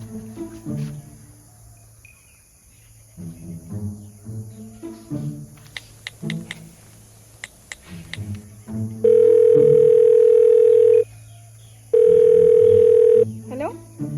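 A phone's ringing tone sounds in two long steady bursts, clear and loud, after a stretch of quiet voices and faint chirping in the background.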